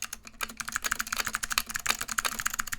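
Rapid, uneven typing on a Duck Orion v2 mechanical keyboard with unstabilized keys, a close, loud run of clacky keystrokes heard on its own.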